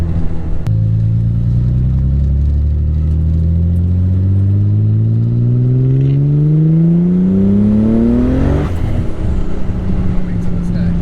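A 900+ wheel-horsepower Nissan 300ZX on a dyno, engine climbing steadily in pitch under full load for several seconds before lifting off, loud and close with voices around it.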